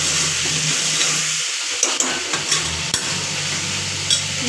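Tomatoes stirred in a sizzling frying pan, a steady close frying hiss broken by several sharp spoon scrapes and knocks against the pan.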